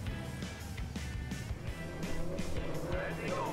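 Classic 1960s racing cars on the Knockhill Racing Circuit in Scotland roar past at a dip, a loud blend of engines rising and passing at a distance.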